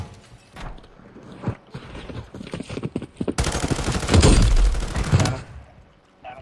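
Gunfire in the video game Warzone: scattered shots early on, then a dense, loud stretch of rapid automatic fire and bursts near the end.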